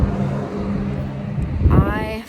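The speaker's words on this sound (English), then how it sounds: "You're gonna hear lots and lots of road noise." Steady low road rumble inside a moving old, rusty school bus with the seat removed, a continuous close drone that swells briefly near the end, with a voice talking over it.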